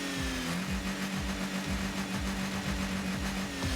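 Rocket League cars in a 3v3 match, engines droning steadily with pitch sweeps as turbo boost kicks in, loud and continuous with game effects layered over them.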